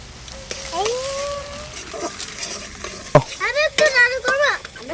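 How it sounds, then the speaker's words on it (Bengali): Onion frying in a pan with ginger and garlic for a thin chicken curry, a steady sizzle and stirring scrapes running under a woman's nearby speech. "পেঁয়াজটা বেশি কষাবো না এবার আদা রসুন দিয়ে দেবো"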